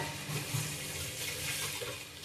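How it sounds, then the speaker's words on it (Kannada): Water pours into a pan of cluster bean and potato curry, a steady, gentle, close stream of liquid with no speech. "ಸ್ವಲ್ಪ ನೀರು ಕೂಡ ಹಾಕಬೇಕು,"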